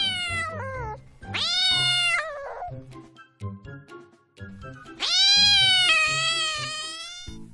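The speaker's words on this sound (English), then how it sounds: "C for cat." A cat meows loudly several times, long drawn-out cries with pauses between them, close by and clear.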